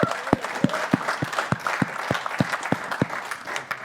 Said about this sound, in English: So a round of applause for Moff for that.